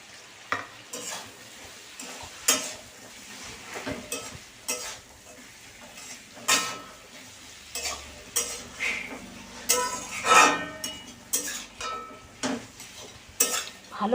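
Fried morola fish and potatoes are stirred into a sizzling spice paste, with repeated loud spatula scrapes and clanks against the pan over a continuous frying hiss.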